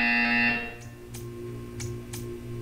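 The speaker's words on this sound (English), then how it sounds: "You will hear a buzzer." A short electronic buzzer in the video game Portal 2 sounds as a steady, bright, harmonic tone for about half a second, then cuts out, leaving faint clicks and ticks over a low background hum.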